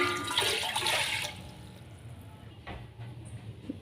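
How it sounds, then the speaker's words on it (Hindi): Water pours into a cooking pot for mandi rice, a loud splashing gush during the first second or so that then fades into quieter trickles and faint kitchen handling sounds. "मंदी राइस के लिए सबसे पहले ऐड करेंगे पानी चावलों के हिसाब से।"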